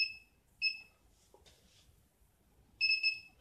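Two short electronic beeps from a Godox DE300 studio flash unit, one alone and one sustained, a sharp high double-tone chirp returning after a pause, close and clear over quiet room noise.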